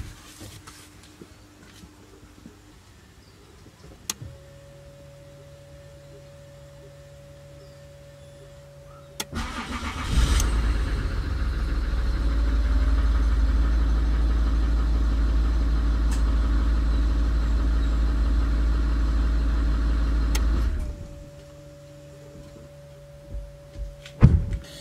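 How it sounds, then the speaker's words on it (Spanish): A Citroen C6 2.7 HDi diesel with a freshly replaced battery: a dashboard chime and a starter motor cranking quickly, then the engine catches and runs steadily for about ten seconds before shutting off. "se nota muchísimo la velocidad a la que gira el motor de arranque cuando la batería es nueva"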